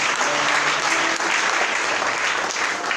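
Audience applauding a woman at a breakfast gathering for sharing and testimonies in Kpalime, a dense, steady crowd clapping that fills the whole stretch with slight swells.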